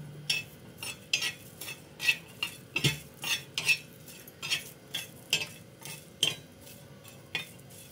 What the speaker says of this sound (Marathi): आता आपण 10-12 लसणाच्या पाकळ्या भाजून घेऊ। लसणासोबत आपण हे अर्धा इंच आलं पण भाजून घेऊ।